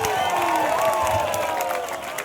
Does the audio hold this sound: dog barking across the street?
no